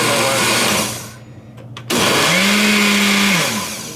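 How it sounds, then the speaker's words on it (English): A regular Oster blender whirs loudly while blending a thick fruit smoothie, cutting out briefly, then surging back with a strained motor pitch that rises and settles. "This is a regular Oster blender."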